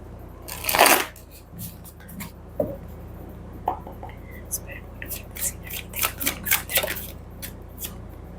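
Tarot cards being shuffled by hand: a burst of riffling, then a string of soft slaps, flicks and rustles at irregular intervals, close and fairly quiet.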